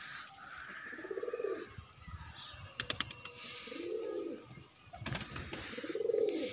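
Pigeons pecking at grain, heard as soft repeated cooing calls in three phrases with faint scattered taps and light background noise, close and quiet.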